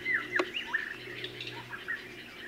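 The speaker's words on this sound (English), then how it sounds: "there's two birds up there mating right now" Small birds chirping and calling in Hawaii, a pair perched up high, with repeated short tweets and trills at moderate distance over a faint steady background hum.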